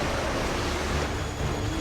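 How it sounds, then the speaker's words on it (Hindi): Animated sea waves, roughly forty feet high, surge fast toward a temple at Jagannath Puri, a dense, steady roar of surf and rushing water filling the scene without pause and with no voices. "समुद्री लहरें लगभग 40 फीट ऊंची उठकर बहुत तेज वेग में मंदिर की ओर चल पड़ती हैं"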